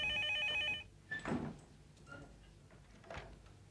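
A telephone rings with a loud electronic trill for under a second, then cuts off, followed by faint handling clicks and knocks as the receiver is picked up.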